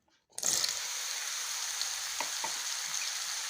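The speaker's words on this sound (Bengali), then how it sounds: "আর মাশরুমটা এখন আমি ভেজে নেব।" Mushrooms drop into hot mustard oil in a wok and set off a sudden loud sizzle that keeps frying steadily, with a few scraping stirs partway through, close up and with no one talking.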